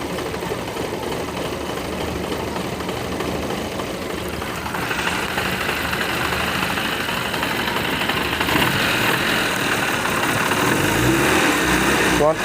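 A Fiat Uno engine settles back to a steady idle after the throttle is released during a radiator coolant change, a continuous close mechanical drone that stays even throughout.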